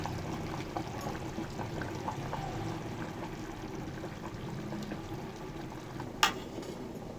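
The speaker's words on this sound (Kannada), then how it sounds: "ಈಗ ಸ್ವಲ್ಪ ರುಬ್ಬಿರೋ ಮಿಶ್ರಣನ ಇದ್ರೊಳಗಡೆ ಸೇರಿಸ್ಕೊತಾ ಇದ್ದೀನಿ." Ground spice paste poured into a pot of sambar with cooked potato and brinjal, a steady soft liquid pouring and bubbling wash throughout, with one brief sharp clink near the end.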